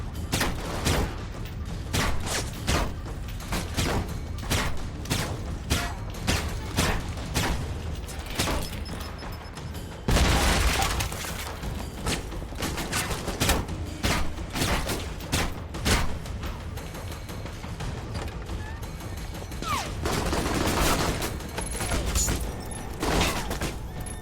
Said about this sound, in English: My exceedingly inaccurate pistol.